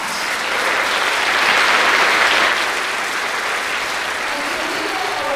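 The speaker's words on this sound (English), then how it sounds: "can we have another round of applause for these amazing middle schoolers?" Dense, sustained applause from a concert audience for a middle school honor orchestra, a broad wash of many hands clapping that swells briefly then holds steady, close and loud with faint cheering mixed in.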